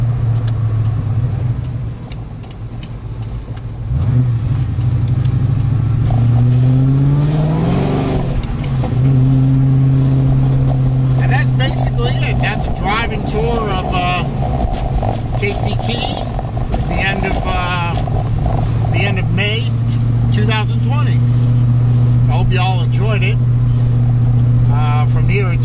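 A Terminator Saleen car cruising around Casey Key, Florida, engine humming up close with several revving surges as it accelerates through a left turn; someone talks over the steady drone at times.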